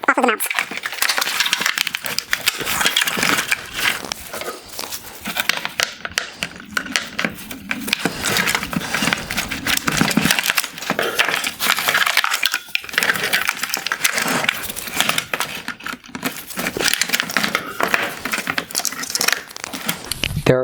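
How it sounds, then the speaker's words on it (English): A wire harness is pulled off its plastic mounts inside a 2019-2020 Mercedes-Benz C400 Multi-Beam LED headlight during teardown, giving continuous close crinkling, snapping and scraping of plastic and wire that stays loud throughout. "Now I will start pulling the wire harness from off of the mounts."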